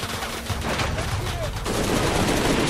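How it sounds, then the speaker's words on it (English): Rapid automatic gunfire in Shadow of the Tomb Raider during a fight at an oil refinery, a dense, loud stream of shots with a voice talking over it. "Stop shooting! This is an oil refinery!"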